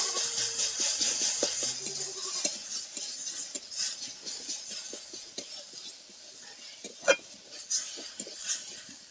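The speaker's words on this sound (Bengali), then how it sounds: "রসুন বাটা আদা বাটা একসাথে ভালো করে ভেজে নেব" Garlic paste and ginger paste fry in a pan while a utensil stirs and scrapes, giving irregular clinks and scratches over a soft, steady sizzle, with one sharper knock partway through.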